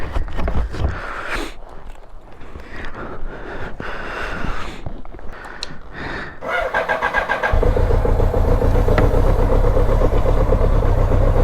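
A GS motorcycle turns over with a few sputtering, uneven cranks before catching and settling into a loud, continuous close-up idle for the final seconds.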